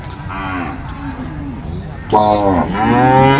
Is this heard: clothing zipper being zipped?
no